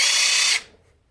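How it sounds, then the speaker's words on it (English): Cordless reciprocating saw head on an interchangeable multi-tool running alone, a loud, close buzzing whir that stops abruptly after about half a second and leaves near silence. "Now you got a reciprocating saw."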